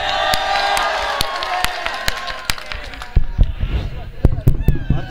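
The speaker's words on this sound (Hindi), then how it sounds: "तालियां देता।" Applause and crowd noise from an outdoor mushaira poetry gathering, a dense wash of clapping with loud sharp pops and cheers, mixed with voices and a talking announcer over the crowd.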